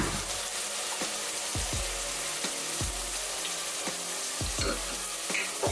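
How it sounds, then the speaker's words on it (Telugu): Grated coconut with mint and coriander sizzles and fries in a pan, a steady crackling hiss broken by repeated scraping stirs of a spoon against the pan. "ఇది పచ్చివాసన అంతా పోయేంత వరకు ఫ్రై చేసుకోవాలన్నమాట"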